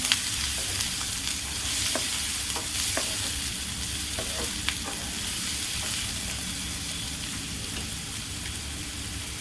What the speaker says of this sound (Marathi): एक मोठा कांदा कट करून घेतला होता, तोही घातला। तो छान परतून घेऊ आता।